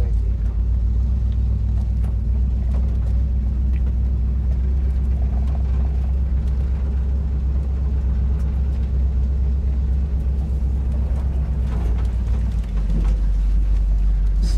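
Steady, loud low rumble of a 1974 Plymouth Satellite driving, engine drone and road noise continuous from inside the car, with faint voices underneath.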